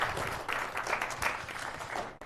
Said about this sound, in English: let's give our speaker a big round of applause